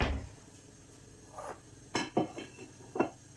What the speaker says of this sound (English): Grab a plate out to put the two that I need to take back out of the pan back on